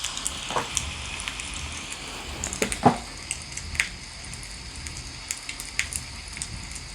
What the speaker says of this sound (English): Bonfire in the forest.